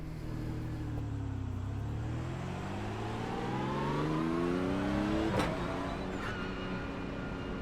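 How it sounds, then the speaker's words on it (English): A race car engine in the iRacing sim game drones and climbs steadily in pitch through gear changes, loud and continuous, with a brief sharp knock near the end. "Oh, I love the engine sound. It's so nice."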